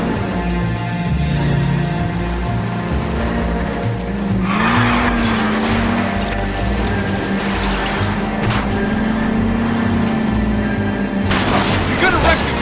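A car speeding and skidding through a chase in the video game LA Noire, with a steady engine drone, bursts of tire squeal and impact booms across the stretch, under voices talking over the action.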